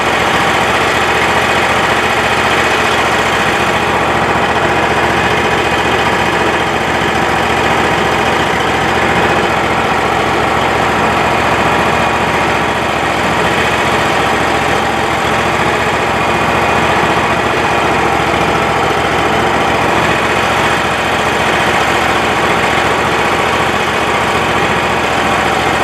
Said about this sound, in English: The engine barely rolled over and started running.